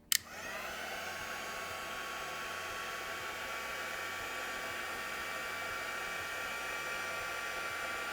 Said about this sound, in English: Now we get our heat gun out.